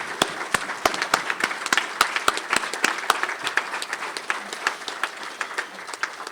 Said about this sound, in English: give a round of applause to all the healthcare deliverers everywhere in the region